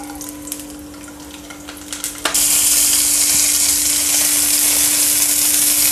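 Green chilies roast in hot oil in a pan for an okra amti spice mix, with quiet stirring at first and then a sudden loud burst of sizzling that holds steady to the end.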